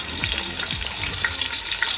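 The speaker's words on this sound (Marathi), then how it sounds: "त्याच्यात आहे ना तेल टाकून घेऊ. कांदा टाकून घेऊ. कांदा तळून घ्यायचा आपल्याला." Chopped onions frying in hot oil in a cooking pot make a continuous close sizzle, with a couple of soft low knocks at the start and no talking.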